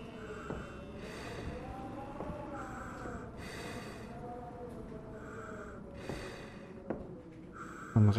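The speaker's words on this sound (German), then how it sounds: "Das Atmen wird immer lauter, umso weiter ich die Richtung gehe." Heavy, rhythmic breathing in the video game The Descent, slow drawn-out inhales and exhales with sharp snort-like gasps, repeating about every second or two against a low ambient drone, with a brief loud thump at the end.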